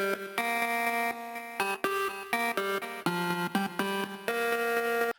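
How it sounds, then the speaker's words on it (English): A funky synth line from the Mini V "Get Funky" preset in Cubase plays choppy, rhythmic staccato notes and short chords, bright and upfront with no voices. "And also added a synth line using the Mini V Get Funky preset."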